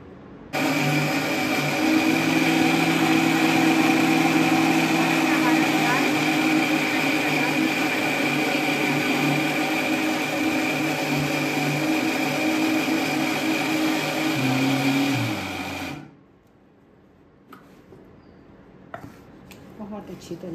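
An electric mixer grinder grinds soaked chana dal with whole cumin in steady, loud, continuous whirring for about fifteen seconds, then cuts off, leaving faint kitchen clatter.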